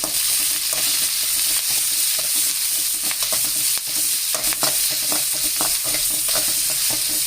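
Dried red chillies, curry leaves and small shallots sautéed in a pan for banana stem poriyal, a loud steady sizzle close up with scattered scraping stirs and crackles throughout, no voices.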